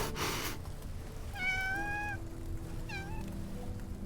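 A cat in the game Love & Deepspace gives two clear meows, a longer one followed by a shorter one, over soft background music and ambience.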